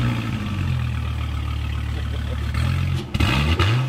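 A Dodge SRT Viper TA's V10 engine cranks and fires up at the end, barking into a loud rev after a steady low idle-like rumble; the engine is close by.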